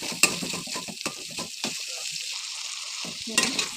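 Spices with turmeric and salt sizzle softly in a pan while being stirred, with irregular scraping stirs and small clatters over a steady frying hiss.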